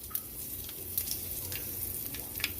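Spices and asafoetida sizzle in hot oil in a pan, a soft steady frying hiss broken by small sharp pops and crackles.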